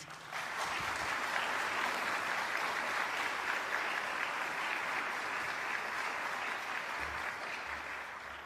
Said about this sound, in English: just to raise your hands and clap for Jane's video, if you don't mind.